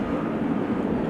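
A Turkish Airlines A310 passes at Amsterdam Schiphol Airport on a showery day, producing a broad, steady jet roar heard briefly at moderate volume.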